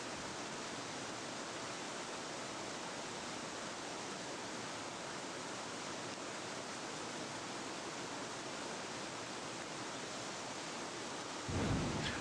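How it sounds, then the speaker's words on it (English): Heavy rain hisses steadily in the island survival game Escape the Pacific, with a sudden rumble of thunder near the end. "They did an excellent job on the audio for thunder and rain."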